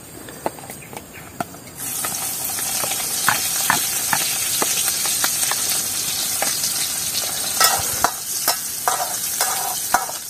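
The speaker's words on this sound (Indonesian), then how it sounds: "udah matang kelihatan enak ini ya goreng kerang sama tempe" Clams and tempeh fry in a pan, a loud, steady sizzle and hiss that rises sharply after a brief quieter start, punctuated by the clack of stirring.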